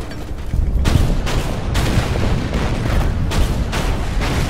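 Booming artillery fire against an anti-aircraft gun in the Order of Battle strategy game, a dense continuous barrage of low rumbling blasts with several sharper bursts, loud and close throughout.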